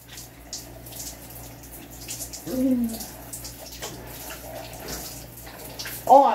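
Water streams from a newly installed shower in a steady hiss, with a voice briefly exclaiming partway through and again near the end.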